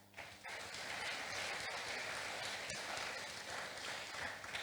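Audience applause for the president at GYAS 2022, a dense, steady wash of clapping from a crowd that starts abruptly and holds at an even level for several seconds.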